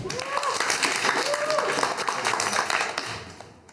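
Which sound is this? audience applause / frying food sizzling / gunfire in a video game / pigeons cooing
audience applause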